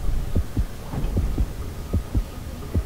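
A heartbeat in the underwater video game Depth thumps in low, heavy paired beats, repeating at a steady pace over a dull humming background with no talking.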